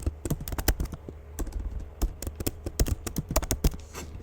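Steady typing on a computer keyboard, a rapid run of close, crisp key clicks with a few brief pauses.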